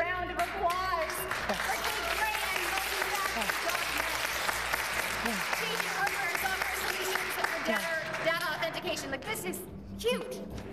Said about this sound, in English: Everybody, please join me in a huge round of applause.